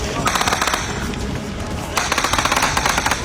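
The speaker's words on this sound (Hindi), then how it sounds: "गोलियों की आवाज साफ सुनाई दे" Rapid bursts of gunfire rattle out in two loud volleys, with a brief lull between them, as people flee toward their homes in Gaza amid the Israel-Palestine war.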